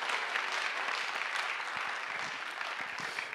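Audience applause for Gülistan at a community talk event in Sarayönü Halkapınar, a steady dense wash of clapping filling the room, moderately loud and unbroken.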